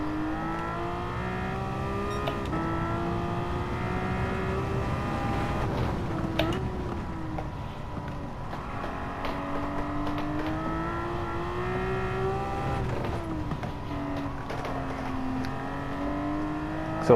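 A Porsche 911 in Gran Turismo 7 accelerates hard out of a corner and uphill, its engine note climbing steadily through the revs, with brief dips at gear shifts before rising again, loud and close.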